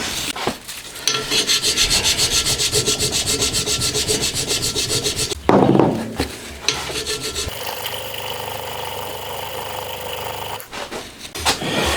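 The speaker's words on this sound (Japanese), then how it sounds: "もう少しずつ削って高さ揃えますね" Hand file rasping across the mating surface of a Honda Monkey engine crankcase, rapid rhythmic back-and-forth strokes up close, pausing briefly before resuming in a slightly different tone.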